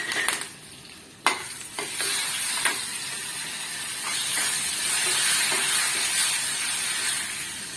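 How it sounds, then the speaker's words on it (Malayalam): Curry leaves and dried red chillies hit hot oil after mustard seeds have popped, in a steel pan, for a mango pulissery, giving a steady close sizzle with sharp crackles and a few spoon clinks that grows louder as it goes. "കടുക് പൊട്ടിയതിന് ശേഷം കറിവേപ്പിലയും വറ്റൽമുളകും കൂടി കൂട്ടി ചേർത്ത് കൊടുക്കാം"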